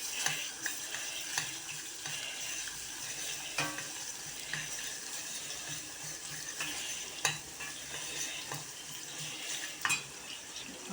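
Pepper paste frying with flour in a pan, a steady close sizzle broken by repeated scrapes and clinks of a utensil against the pan, with no talking.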